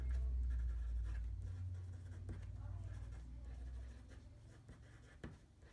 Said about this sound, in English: I'm just going to write what we were doing.